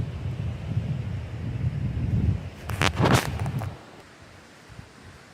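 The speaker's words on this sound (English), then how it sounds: "A little windy here." Coastal wind buffets the microphone in low rumbling gusts, swelling to a sharp burst of noisy blowing before dropping off to near calm.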